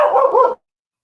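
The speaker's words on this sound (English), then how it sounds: "let's get the dog on the show" A dog gives a short, loud, close bark, a single brief yelp-like burst lasting about half a second, followed by silence.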